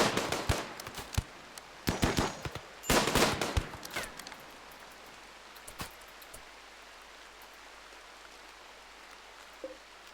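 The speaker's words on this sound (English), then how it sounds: "This guy has assault rifle, which is one of the best weapons in this game" Assault rifle fire in the RimWorld video game during an arctic raid: several sharp bursts of rapid shots in the first four seconds, then a couple of isolated shots and quieter crackle, with no talking.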